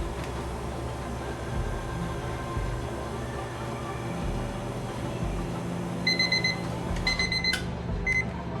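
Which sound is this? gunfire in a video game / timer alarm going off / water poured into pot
timer alarm going off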